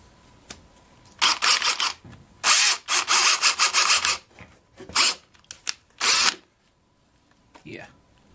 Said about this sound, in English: so we can drill in